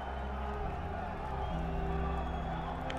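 Arena crowd in a Game of Thrones video game cheering steadily and loudly throughout, a dense continuous roar with whoops rising from the mass of voices, under game music.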